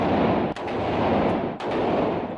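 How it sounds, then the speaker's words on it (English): Two sharp semi-automatic gunshots at a gun range, about a second apart, crack over a loud, continuous background roar. "That means semi-automatic. Okay. One shot for one trigger pull."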